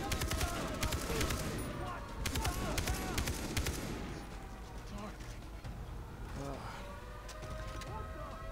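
Rapid gunfire bursts from Far Cry 3 crackle through the first four seconds over game ambience, then thin out into scattered shots and mechanical clatter, with a voice talking over the action.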